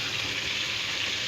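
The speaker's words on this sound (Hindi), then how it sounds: "तो जी आप लोगों ने इसे 2 से 3 मिनट के लिए फ्राई कर लेना है" Stuffed masala eggplant fries in a pan of oil with a steady, even hiss and crackle that stays constant throughout the short stretch, no voices over it.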